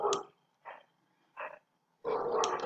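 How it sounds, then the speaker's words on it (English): Dogs barking next door, several distinct bursts spaced apart, with a louder, longer stretch of barking at the end; moderately close and clear, with no talk over it. "sorry if you can hear the dogs next door barking"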